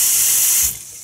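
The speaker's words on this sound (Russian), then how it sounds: "Для этого нам нужно проверить смеситель на кухне," Water gushes from a kitchen mixer faucet being checked for pressure, a loud, close hiss that cuts off abruptly partway through, leaving a faint tail.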